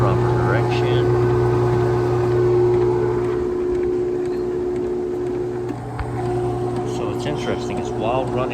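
A Stoelting soft-serve machine runs with its beaters turning, giving a steady low mechanical hum with a constant drone throughout, close and continuous, with a brief dip near the end.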